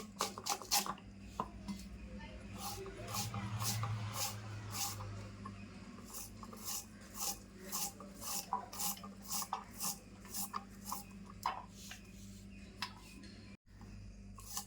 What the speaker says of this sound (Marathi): कांदा ना आता मी एकदम बारीक बारीक असा कापून घेते